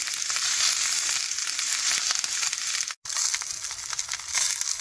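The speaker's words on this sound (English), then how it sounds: "I'm going to toast my tomatillos, onion, and chili pepper" Tomatillos, onion and chili pepper toasting in about a tablespoon of olive oil, charring in a pan with a loud, dense, continuous crackling sizzle, close up and steady apart from one brief gap.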